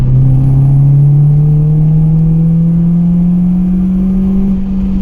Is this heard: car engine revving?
yes